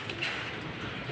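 Pigeons in a loft coo softly and steadily at close range, a low murmuring call over faint room noise.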